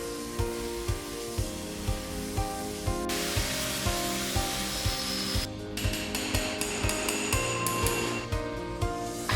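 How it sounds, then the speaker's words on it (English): A hammer strikes rebar steadily to coil its tip around a metal rod, giving a rhythmic series of sharp metallic blows close up. A bright hissing, rustling layer runs under the hits partway through. "First, I start by coiling the tip of the rebar around a metal rod."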